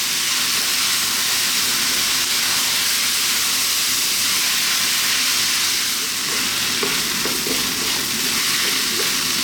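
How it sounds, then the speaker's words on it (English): Chicken chow mein noodles stir-fried in a hot pan, a steady loud sizzle and hiss with light scraping and tossing sounds running continuously throughout. "we're going to throw this around in the pan. Again for about 4 to 5 minutes."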